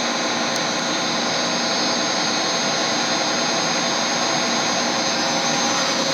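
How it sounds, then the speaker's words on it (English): The horizontal feed motor of a milling machine, driven by a variable-frequency drive, runs with a steady, dense whirring roar that holds at an even level from start to finish. No one speaks. "we'll start up the motor for the horizontal."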